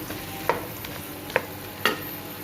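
Necks sauté in a pan for a pota kaleji dish, a soft continuous hiss of frying punctuated by three distinct knocks of a spoon stirring against the pan.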